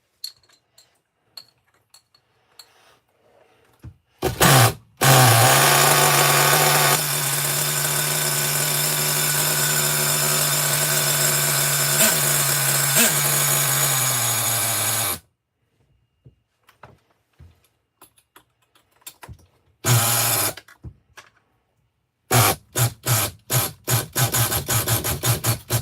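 A Losi XXX-NT RC car engine idles in a loud, steady, buzzing whine for about ten seconds, then cuts out. Short sputtering revs and a choppy run of bursts follow after a silent pause.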